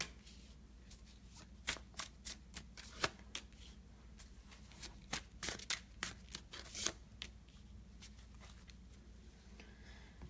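Tarot cards are shuffled and drawn in a quiet room: a run of crisp, irregular card snaps and flicks, each short and close, clustered in the middle over a soft hiss.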